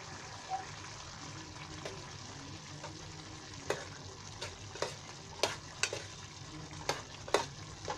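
Dried Bombay duck fish fries in a pan with a steady low sizzle, and a spoon gives occasional soft scrapes and taps as it is stirred, with no talk.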